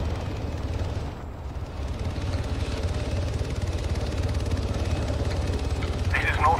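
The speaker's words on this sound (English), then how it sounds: "Oh, I see the heli. It's a green heli" Green helicopter in the video game Arma 3, a continuous low rotor and engine drone that stays steady throughout, close and fairly loud.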